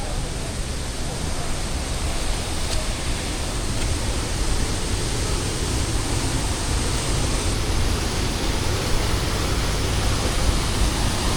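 A forest waterfall on a rainy day gives a continuous, broad rushing roar of falling water, steady and enveloping from start to finish, with no speech.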